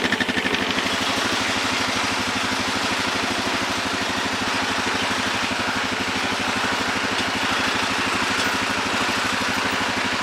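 A heavy tractor diesel engine idles steadily with a rapid, even chugging rumble, close and continuous throughout.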